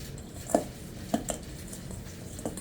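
Seasoning worked by hand into raw ground beef for bacon Colby Jack cheeseburgers, a few soft close knocks and squishes against a bowl with quiet pauses between them.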